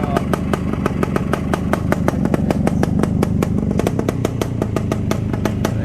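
Trials motorcycle engine running steadily during a shop demo, a loud close rapid regular thumping idle with sharp evenly spaced firing pulses and no revving.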